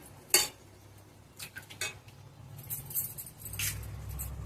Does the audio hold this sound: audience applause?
no